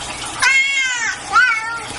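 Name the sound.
cat-like meowing sounds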